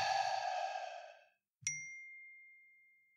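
A phone's notification ding chimes once, sharp and clear, then rings out with a long, fading tone. It follows a soft breathy sigh and a short silence.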